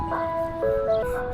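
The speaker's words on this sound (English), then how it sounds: "It's an ice cream truck." An ice cream truck passes playing its tinny, electronic jingle, a simple stepping melody heard at moderate distance over traffic hum while someone talks.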